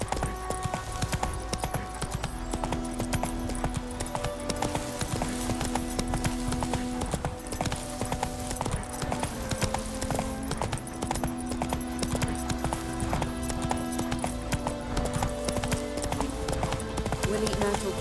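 Rapid, continuous hoofbeats of the horse Roach galloping in The Witcher 3, an even clip-clop rhythm over a dense game soundtrack and ambience, with voices talking at times.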